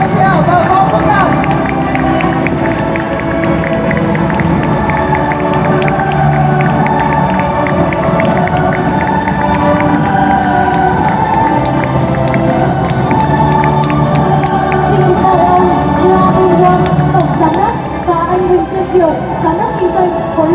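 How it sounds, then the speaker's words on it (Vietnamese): A large audience at an Amway Vietnam stage ceremony honoring distributors claps and cheers continuously in a loud, dense wash of applause, with shouts and a babble of crowd voices throughout. "Chúng ta hãy dành những tràng pháo tay lớn hơn nữa dành cho Tân Bộ Tân Mân, Nguyễn Thị Hảo và Võ Quốc Đạt."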